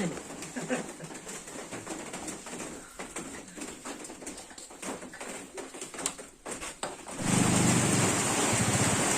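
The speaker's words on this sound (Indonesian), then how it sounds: "ternyata hari hujan ya, kita mendirikan tenda di dalam dulu" A person talks over quiet outdoor background at a lakeside campsite at Lake Talang, West Sumatra, then heavy rain suddenly rushes in loudly for the final couple of seconds.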